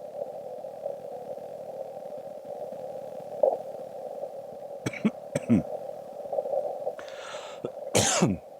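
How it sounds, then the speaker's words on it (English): A few short, harsh coughs come in bursts near the end, over a steady low electronic hum, with one throat-clearing sound just before them. "This is all the pollen that's causing my coughing"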